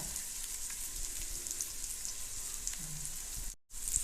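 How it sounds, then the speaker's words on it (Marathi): Okra bhaji, Goan style, fries quietly in a pan over a low gas flame, giving a steady, faint sizzle with no voices. The sound breaks off briefly near the end, then resumes. "आतां ते बरें बारीक गॅसीर आमी भाजूया."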